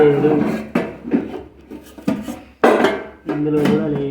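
Steel bowls and dishes clink and clatter in a series of sharp, close knocks and scrapes as they are moved and checked one after another, with a voice talking between them.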